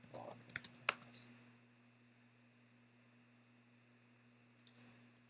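A short flurry of keyboard key clicks at the start, then quiet hum, with a couple of faint taps near the end.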